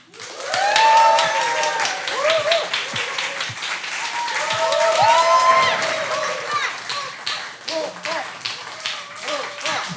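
A concert audience claps in rhythm along with a band's singing, steady clapping under a loud vocal melody throughout.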